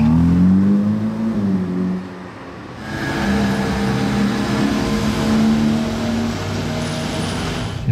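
A convoy of sports cars, including a Porsche, drives past, with loud engine drone and a rising rev near the start, a brief dip, then steady engine roar continuing throughout.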